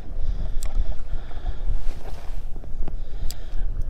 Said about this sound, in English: Just gonna fish into this wind, so it might be a little loud for you guys.